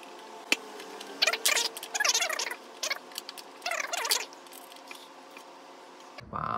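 Plastic pole sections of a Xiaomi Mijia smart DC inverter floor fan 1X being twisted and screwed together by hand, giving three short, close scratchy grinding bursts separated by quiet pauses.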